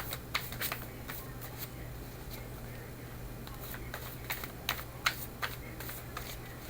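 Tarot cards shuffled in a quiet room, producing a run of soft, rapid riffling clicks that come closer together toward the end, over a low steady hum.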